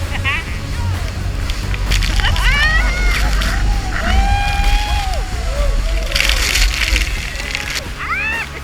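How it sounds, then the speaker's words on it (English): Water surges and sloshes continuously into a boat beneath the roaring falls at Iguazu, Argentina side, loud and close, with people shouting and whooping over the rushing water. "The water poured inside the boat."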